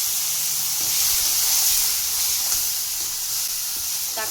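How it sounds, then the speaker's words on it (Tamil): Tomato paste sizzling with fried onions in a pan, a loud, continuous hissing fry with faint stirring and no voices. "இந்த ஸ்டேஜில் நான் ஒரு 3 தக்காளி ஃபைன் பேஸ்ட்டாக அரைச்சி போட்டிருக்கேன்."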